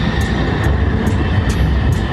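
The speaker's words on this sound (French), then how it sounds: "je filme très souvent les tramways" A tram passes along a city street in Spain, a loud, steady rolling rumble that fills the whole clip, with faint periodic high clicks over it and no voices.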